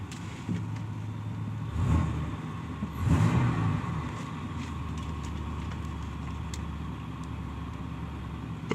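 Engine of a used car with its check engine light on, idling steadily at close range with a couple of brief revs, no voices.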